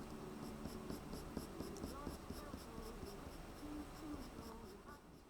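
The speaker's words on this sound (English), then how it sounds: "flick the pencil and release the pencil before you finish the line" A pencil scratches and flicks across paper while shading a butterfly drawing, giving soft, quick, faded strokes under a steady background hiss, close and fairly quiet.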